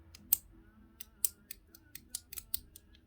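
A Metal Toys Dz Top B mechanical slider gives a series of sharp, crisp metallic clicks, about nine in three seconds, irregularly spaced and close up, with one or two paired snaps.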